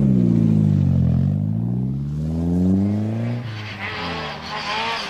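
A Vauxhall Astra rally car at full throttle on a 1994 British Rally Championship stage: loud, close engine notes climb and fall through the gears, then break into rougher revving with tyre scrabble near the end.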